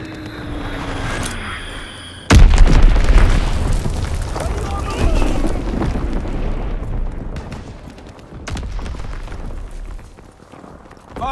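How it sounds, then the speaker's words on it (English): A heavy Azon bomb detonates in a video game, opening with a sudden loud boom followed by a long, rumbling roar that slowly fades over several seconds, with a quieter thump near the end. "Dropping Azon bomb."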